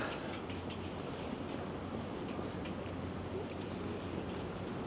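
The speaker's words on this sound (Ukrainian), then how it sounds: "О, там на фоні їде, їде електричка на мосту." An electric commuter train crosses a bridge in downtown Toronto, a steady distant rumble with faint rhythmic clickety-clack of wheels, heard from the street without voices.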